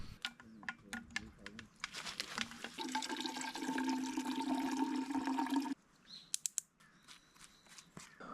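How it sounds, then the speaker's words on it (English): Water running from a gravity filter hung in a tree into bottles outdoors, a steady trickle that builds into a fuller rushing pour for a few seconds, then stops, with clicks and faint birds around it. "I fill up my bottles."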